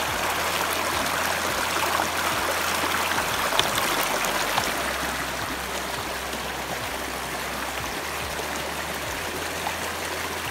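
A village stream in western Cameroon runs in a steady, close, babbling flow. Water gurgles and trickles throughout as a bottle is filled, with faint low thumps now and then.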